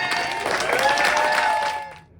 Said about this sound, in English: That's the sound of cheering family and friends.